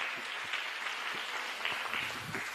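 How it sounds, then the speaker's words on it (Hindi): Applause from a group at a talk or training session, fairly faint and steady patter of many hands clapping with a few sharper claps standing out, no voices over it. "जोरदार तालियां रितु मैम के लिए"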